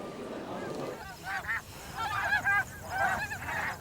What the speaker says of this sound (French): les oies sont au rendez-vous